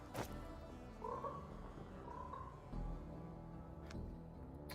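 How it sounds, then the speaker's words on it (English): Frogs croak faintly in a cave setting in the game Below The Stone, soft throaty calls over a low ambient hum, with a couple of sharp clicks and no talking. "I hear frogs."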